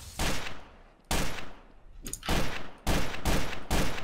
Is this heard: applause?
no